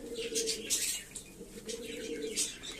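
A pigeon coos in low, repeated rolling notes, close and fairly quiet, with a few light chirps and faint wing rustles between the coos.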